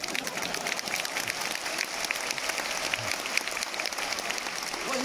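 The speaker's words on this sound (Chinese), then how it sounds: "掌声，掌声。" Audience applause fills a university lecture hall in Qingdao, a steady, dense wash of many hands clapping throughout, moderately distant, with no talk over it.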